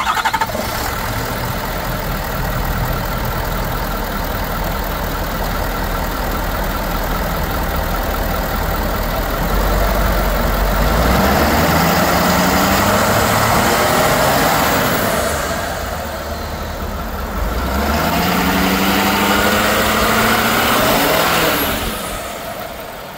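A 2016 Ford F-550 4x4 bucket truck with a Versalift material handler runs loud and close, already idling steadily from the start, then revs up twice in rising surges before settling back to idle.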